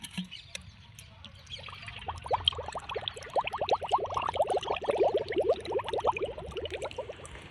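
Water pours steadily into a container, a bubbling trickle building up and continuing for several seconds, close by and moderately loud.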